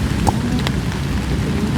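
Heavy rain pours steadily in a dense, continuous hiss during a storm at an open field near an airport, with a few sharper drop or splash sounds scattered through it and no voices.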